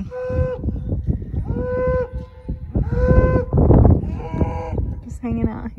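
Cattle being worked on a farm moo repeatedly, several loud, drawn-out calls overlapping close by, with shuffling and handling noise between them and no speech.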